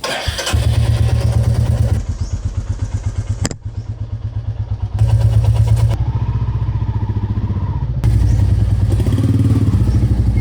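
Royal Enfield Classic 350 motorcycle started after sitting two weeks, its single-cylinder engine thumping loudly and close with a steady rapid beat, briefly dipping and catching again before settling into a continuous idle.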